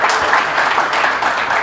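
An audience at a public talk or rally bursts into dense, loud applause, continuous crowd clapping filling the whole moment with no voices over it.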